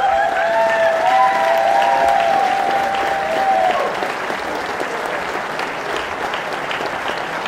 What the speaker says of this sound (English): one more applause for the puppeteers